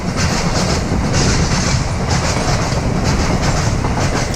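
A heavy train pounds over a railway junction at Leamington, a loud, continuous rumble with rhythmic clickety-clack of wheels over the rail joints, close and steady throughout.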